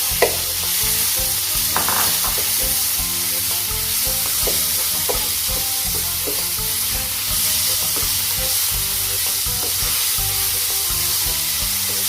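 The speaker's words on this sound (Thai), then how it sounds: "ใส่หมูสับลงไปนะคะแล้วก็ผัดไปเรื่อยๆก่อนค่ะ" Minced pork stir-frying with chili in a hot pan, a steady loud sizzle with scraping stirs and occasional clinks, continuous throughout.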